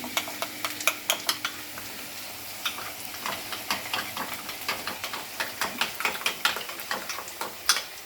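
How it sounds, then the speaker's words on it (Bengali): Onion frying in ghee and oil for methi chicken: a steady sizzle runs throughout, broken by irregular sharp clinks and scrapes of stirring against the pan, close and fairly loud. "ঘি আর তেলের মধ্যে পেঁয়াজটা দিয়েছি"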